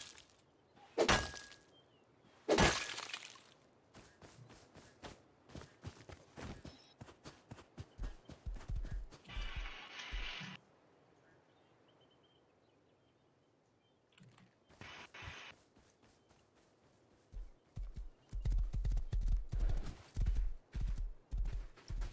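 Horse hooves clip-clop in the Rust survival game, with bursts of rhythmic hoofbeats near the start, middle and end separated by quieter stretches, plus a brief whinny-like call and sharp clatters.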